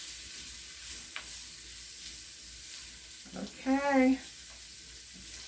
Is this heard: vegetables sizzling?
yes